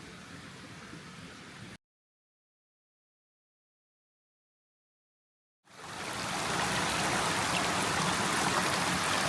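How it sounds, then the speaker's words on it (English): A forest creek flows with a steady hiss of rushing water, cutting out to silence for about four seconds before the broadband splashing returns louder and continues to the end. "This is a beautiful creek"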